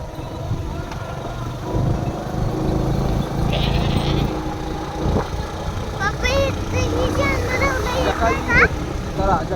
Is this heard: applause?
no